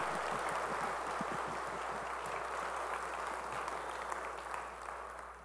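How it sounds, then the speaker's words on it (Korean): Sustained applause from a large congregation fills a church, dense and steady clapping without pause, gradually easing slightly toward the end. "우리 찬양을 받으실 주님께 영광의 박수 올리겠습니다"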